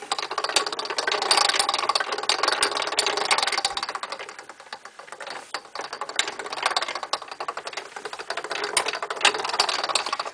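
Modified winch driving a 4:1 gear system on a 3-phase alternator project, a dense continuous mechanical rattle and grinding whir that runs loud and steady throughout with slight surges.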